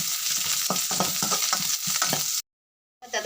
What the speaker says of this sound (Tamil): கட் பண்ணி வச்ச பச்சை மிளகு போடணும் சவத்ததும் வெங்காயம் போடணும் அதை சவக்கு மட்டும் வதக்கணும்